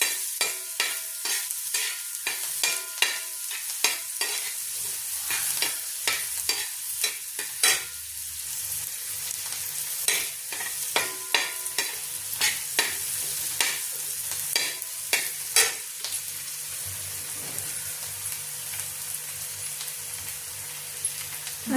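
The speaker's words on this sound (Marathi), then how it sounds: "आता कांदा आजीने चांगला लाल असा भाजून घ्यायला लावलेला आहे." Onion frying in hot oil, browned until reddish, with a steady sizzle and repeated scraping stirs of a spoon against the pan, close and fairly loud, with no voices.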